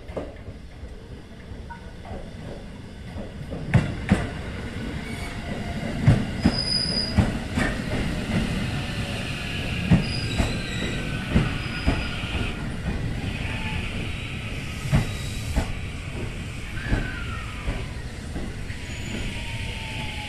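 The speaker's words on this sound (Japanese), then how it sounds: "先ほど回送列車として一旦引っ込んで、ドクターウエストとのすれ違い待ちをしていた電車が戻ってきます。" A local commuter train bound for Kusatsu rolls into a station, its wheels squealing and clacking over the rails in close, sustained noise with scattered sharp clicks and screeches throughout.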